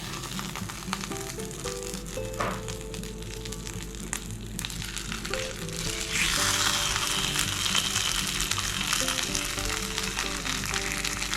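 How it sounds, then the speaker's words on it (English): Refried beans fry in hot bacon grease, giving a steady crackling sizzle with small pops and clinks from stirring. It swells louder and brighter about halfway through and has no voices over it. "So again, I'm gonna start with bacon grease. And now we're gonna add our refried beans."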